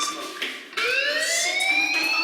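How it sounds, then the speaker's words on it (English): A school fire alarm in the game Life is Strange wails with a rising, sweeping electronic siren tone, loud and continuous after a brief quieter lead-in. "do you hear that fire alarm?"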